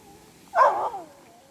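A neighbour's dog gives a single short bark out in a garden, close and clear against quiet surroundings.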